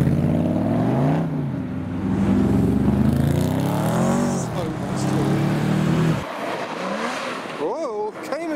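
Aluminium-bodied Cobra replica leaving a car show, its V8 burbling and revving through a few throttle blips before fading off, with people talking nearby over the engine.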